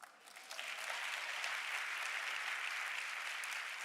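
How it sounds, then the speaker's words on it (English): At a Women of Color awards gala, a crowd breaks into applause, swelling quickly from a few claps into sustained, dense clapping that holds steady and loud to the end. "Yes, that does a round of applause."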